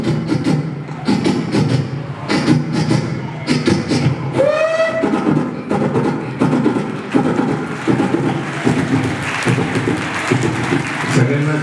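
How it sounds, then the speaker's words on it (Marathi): A superfast train passes another train: a loud, rhythmic rumble of wheels and carriages with a short horn blast partway through, and voices mixed in. "एक सुपरफास्ट ट्रेन आपल्या ट्रेनला क्रॉस करून गेली."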